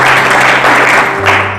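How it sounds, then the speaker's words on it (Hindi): A church congregation claps together in praise of the Lord, a loud, dense burst of applause that fills the room and fades slightly at the end. "ताली बजाकर प्रभु की महिमा करें"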